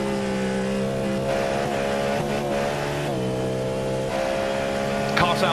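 A Cadillac race car engine in an esports racing game at Daytona International, a sustained tonal growl that shifts pitch through gear changes, steady and prominent, with a commentator talking over it.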